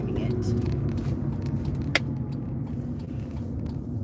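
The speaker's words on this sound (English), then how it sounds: "My car is so loud on the expressway." Car driving on an expressway: a loud, steady road rumble and engine drone fills the cabin throughout, with a brief click partway through and low talk underneath.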